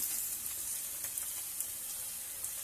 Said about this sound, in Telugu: సరిపడా జీడిపప్పు వేసి కాసేపు మనం అన్నీ వేగేటట్టు వేయించుకుందాం